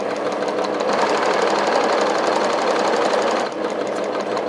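Sewing machine running steadily and close, stitching a quarter-inch seam on a charm square tote bag, a dense, even mechanical whir that barely changes, with no voices over it.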